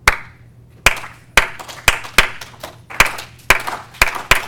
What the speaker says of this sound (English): right now I'm going to have you just clap along with me